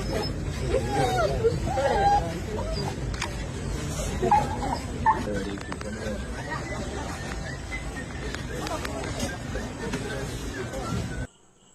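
A dog in Wayanad whimpers and yips on seeing its owner again after a long time, with close, fretful cries rising over a steady murmur of crowd chatter.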